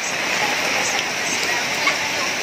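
Heavy rain pours down in a steady, loud, close hiss that holds evenly across the whole moment without breaks.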